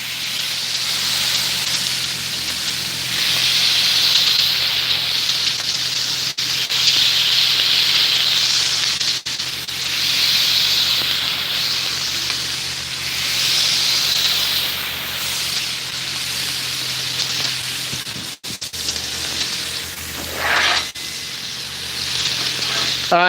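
Burger patties sizzle on a griddle coated in beef tallow at medium-high heat, a loud, continuous bright hiss with brief crackle bursts and scraping, no talk over it.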